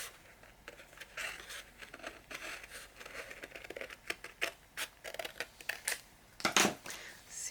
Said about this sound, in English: Now I'll cut this piece.